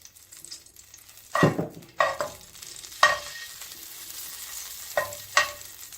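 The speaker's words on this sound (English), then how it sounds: "Let that ghee melt." Ghee melting in a cooking pan for chicken akhni, with a soft steady sizzle and several sharp clattering knocks of a utensil against the pan, close and with no talking.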